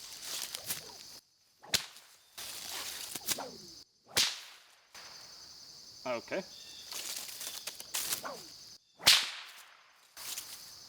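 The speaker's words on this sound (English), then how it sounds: "I think I really underestimated the power of whips." Sharp bullwhip cracks snap out one after another at irregular intervals, loud and close, with swishing whooshes between strikes and a brief spoken word.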